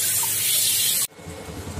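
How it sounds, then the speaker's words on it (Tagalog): A kitchen tap runs in a strong, steady gush as raw chicken is rinsed for a Chinese-style soup, then cuts off abruptly partway through, leaving quiet room tone. "Ako'y habang naghuhugas ng aking manok. Ayan. Hugasan po muna natin ng maigi."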